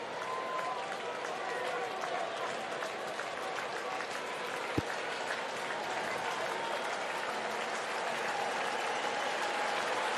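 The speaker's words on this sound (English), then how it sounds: "Crowd comes alive here at Busch" A baseball crowd at Busch Stadium roars and cheers continuously during a Padres–Cardinals game, a dense, sustained wall of noise with a single sharp crack partway through.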